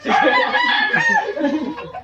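A rooster crows loudly and close by, one long ragged call lasting about two seconds.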